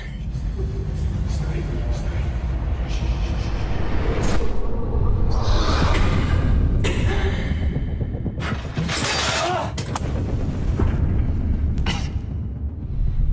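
Gunfire rings out in a tense scene from The Walking Dead, with several sharp, loud bursts spread over the clip amid shouting voices and a constant rumbling background.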